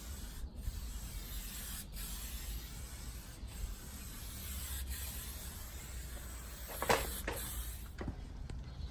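A spray gun lays the final top coat on a Nissan Patrol fender being repainted over oxidized paint, giving a steady, close hiss that runs throughout with a few brief sharper bursts.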